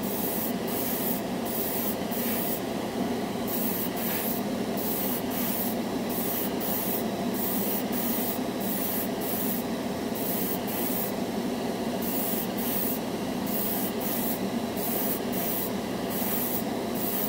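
A cheap dual action airbrush lays a heavier coat of paint onto a test spoon with a continuous hissing spray, broken by short regular pauses as the trigger is released and pressed again.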